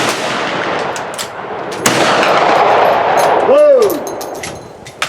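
A Victorian-era rifle volley fired on command at an outdoor shoot, one sharp loud crack followed by a long rolling echo, with a clang and people talking faintly around it.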